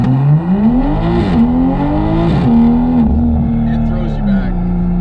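A Toyota A90 Supra accelerates hard, its engine note climbing and dropping through gear shifts in a loud, close, droning roar heard from inside the car.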